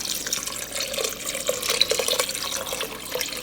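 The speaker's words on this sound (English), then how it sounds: "Then we're going to pour the rest of this chicken broth in here." Chicken broth poured from a 32-ounce carton into a pot of white chicken chili, giving a continuous splashing, trickling stream that is close and moderately loud, with no talking.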